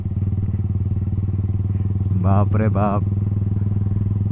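A Yamaha R15 V3 motorcycle with the exhaust dB killers removed idles with a loud, close, pulsing burble, while a man exclaims over the engine noise.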